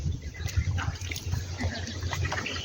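A small river flows steadily nearby as someone wades across it on a mountain trail, the water gurgling and trickling continuously at a moderate level.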